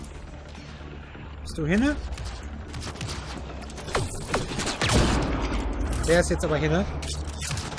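Sniper rifle shots in the video game Mass Effect Andromeda, several sharp cracks with mechanical reload clicks amid in-game noise, while someone talks in German over them.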